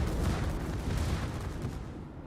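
Dense, continuous naval gunfire in the World of Warships video game, low rumbling booms overlapping into a steady barrage across the whole stretch with no clear gaps.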